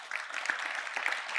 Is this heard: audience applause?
yes